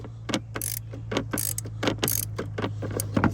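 Ratchet wrench clicking in repeated short bursts as it tightens a thermostat housing bolt on a Chevy 350 engine in a GMC Savana / Chevy Express van, close and crisp over a steady low hum.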